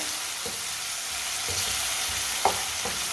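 Chopped vegetables with tomato and finely cut green chili sizzling in a pan, a steady frying hiss with a few soft clicks of stirring, no talk.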